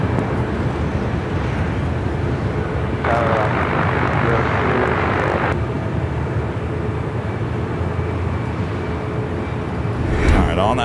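Delta A330neo airliner at LAX, lined up second for departure to JFK: a steady jet engine roar with a brief louder surge of rushing noise midway, continuous throughout.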